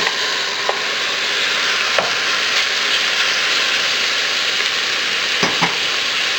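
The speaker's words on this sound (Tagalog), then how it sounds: "Lulutuin lang natin to ng ilang minuto hanggang sa mag-brown yung beef" Beef browns in a hot pan for a spicy beef noodle soup, giving a steady, dense sizzle close by, with a few faint clicks and scrapes of stirring.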